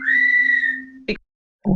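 A bird whistles a long, steady tone for about a second, followed by two short chirpy calls after brief pauses.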